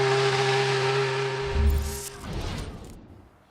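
A race car engine at Silverstone Festival idles with a steady drone while being preheated, then gives a short rev before settling away and fading.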